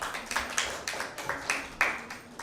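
Scattered, fairly quiet applause for team B at a Bible quiz held among school participants, a handful of uneven claps spread across a couple of seconds.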